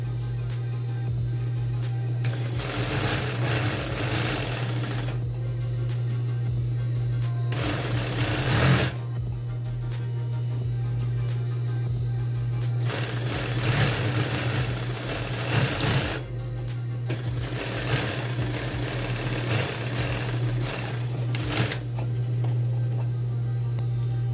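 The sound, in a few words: sewing machine stitching trouser seam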